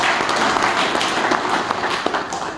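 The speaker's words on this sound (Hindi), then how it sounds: "एक बार पहले तो ताली बजा के सब लोग अपना स्वागत कीजिए" Sustained applause from an audience at a garage owners' meeting and award ceremony held by a tractor dealer, a dense wash of many hands clapping at a steady level for a few seconds.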